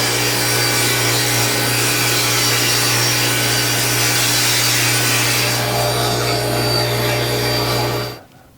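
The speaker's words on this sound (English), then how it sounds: "get over to the table saw and rip these down to 1 1/8 inches" Table saw ripping hardwood strips to narrow width while a dust collector runs, a loud continuous whine and cutting roar with a steady low hum throughout, ending abruptly as the machines cut off near the end.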